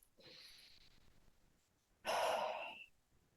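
Soft breathing during a guided meditation and sound healing ritual: a faint, gentle inhale, then a fuller, louder breath lasting under a second, heard up close in a quiet room.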